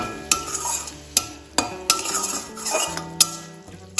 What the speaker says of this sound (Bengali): ভালোভাবে তেলের সাথে এটা কষিয়ে নেব